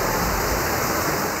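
Rain falls heavily in Karachi as a dense, steady hiss of water with no breaks, loud and close, without any voices.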